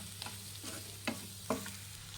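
Chicken tawa fry being stirred with butter on a hot pan, soft scraping strokes over a low steady sizzle, with two sharper clinks of the spatula against the metal, close and fairly quiet, no voices.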